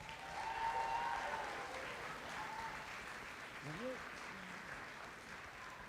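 Audience applauding award recipients at a senior departmental awards ceremony, moderate clapping that slowly tapers off, with some talking underneath.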